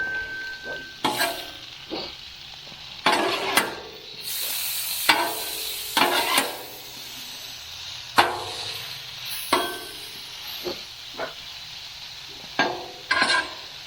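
Steak cooking on a 22-inch Blackstone griddle: a steady sizzle under sharp scraping and clanking hits from a metal spatula, irregularly spaced and close by.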